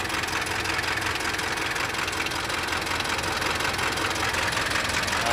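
A Mitsubishi Canter truck's 4M42 diesel engine, recently repaired after injector supply faults, idles up close with a steady, slightly knocking rumble and even vibration throughout, no talk over it.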